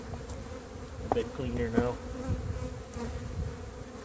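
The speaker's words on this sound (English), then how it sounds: "this is a pretty good hive. We've got quite a few bees" Honeybees buzz around an open apiary hive during spring hive work, a dense, steady drone of many insects close by, with someone talking briefly over the humming.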